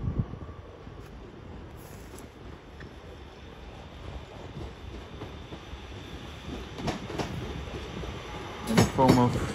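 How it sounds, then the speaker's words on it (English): A Northern Class 323 electric train rumbles through a station at Crewe on the West Coast Main Line. Steady, fairly close track noise builds toward the end, where faint squeals and clanks rise. "a terminating northern service from Manchester Piccadilly. Worked by one of their 323s."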